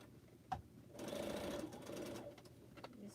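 A sewing machine stitches through thick quilt fabric at the seams of a corner, a close, steady mechanical whir of about a second and a half framed by clicks and brief handling noises.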